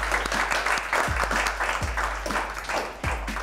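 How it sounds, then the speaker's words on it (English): Audience applause for student union esports participants, steady dense clapping with a few sharper individual claps standing out close by. "Let's give them all a round of applause as well"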